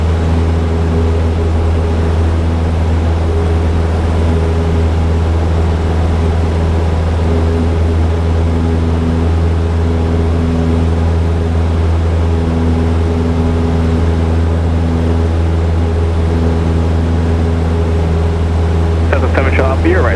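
A small propeller airplane at full throttle on its takeoff run from Runway 26L at Chino Airport, heard from inside as a loud, steady engine drone with strong tonal hum that holds throughout.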